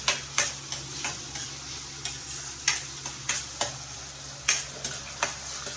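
Chopped onions fry in a pan for a black-eyed pea curry, giving a quiet, continuous sizzle broken by regular scraping strokes of a spoon stirring about twice a second.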